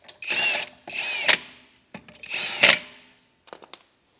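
Lug nuts are tightened on the spare wheel of a 2017 Volkswagen Tiguan, heard as three loud whirring, clicking bursts of a tool, close up, with short pauses between and a few faint clicks at the end.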